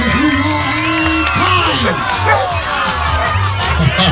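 Loud crowd cheers, whoops and shouts ring out at an outdoor dog agility demo as a run finishes, a dense and continuous roar with children's voices and talk mixed through it.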